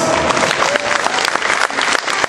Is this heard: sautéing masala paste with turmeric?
no